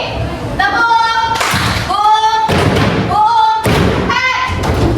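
In a classroom, students bang pens on their desks in repeated loud clattering bursts that alternate with a teacher's chanting voice, keeping a steady call-and-response rhythm.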